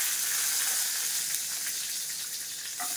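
Shallots sautéing in a pan, a steady close sizzle and crackle of frying filling the clip throughout, with a brief stir or clink near the end and no talking.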